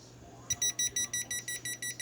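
A dog's training collar beeps after losing signal: after a short quiet start, a rapid run of about eight shrill, evenly spaced electronic beeps sounds close by and fairly loud, with no talking.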